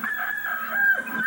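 A Rhode Island Red rooster crows in one long, steady call that holds close and fairly loud, with faint clucking beneath it.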